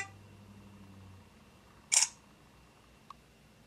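A Samsung Fascinate phone camera snaps a single quick synthetic shutter click, close and clear against a quiet room, followed by a faint tiny tick.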